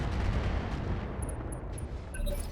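Automated turrets pour fire onto a Thunderbolt mech in the RogueTech BattleTech game, a dense rumbling barrage of impacts and shots that rolls on continuously, with faint electronic blips above.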